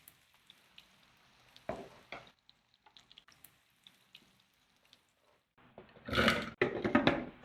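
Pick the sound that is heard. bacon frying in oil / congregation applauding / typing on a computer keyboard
bacon frying in oil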